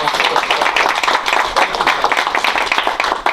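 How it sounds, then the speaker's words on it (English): A room full of people applauds during a strategic planning meeting. The clapping is dense and loud, with uneven bursts and a few voices mixed in. "could you give him a round of applause?"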